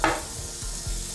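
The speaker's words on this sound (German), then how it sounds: "Lassen wir die jetzt hier mal ein bisschen anbraten." Chicken breast frying on a teppanyaki grill, a soft steady hiss of sizzling after a brief brighter crackle at the start, with faint low knocks beneath.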